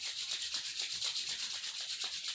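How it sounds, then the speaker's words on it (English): Palms rubbing briskly together during a yoga flow, a close, steady, rhythmic swishing friction repeated evenly for a couple of seconds with no talking. "maybe rub your hands together"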